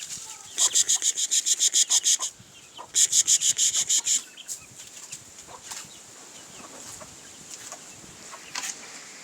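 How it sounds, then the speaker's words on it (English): Rooster and hens on a farm with a big tough rooster among them: two bursts of rapid, rhythmic clucking or cackling close by, then quieter scattered calls and rustling. "See a big tough rooster there."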